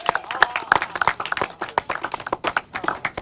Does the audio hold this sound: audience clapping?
yes